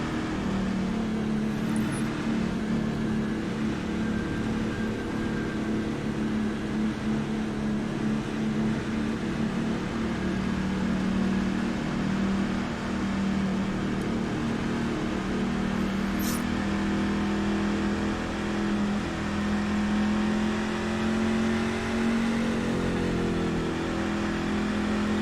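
A race truck's engine in iRacing at Martinsville Speedway, a sustained droning mid-pitched engine note holding steady with slight pitch shifts as trucks run around the track, continuous and fairly loud.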